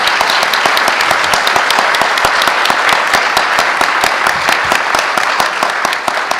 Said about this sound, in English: Would you give them a round of applause for joining in the conversation tonight?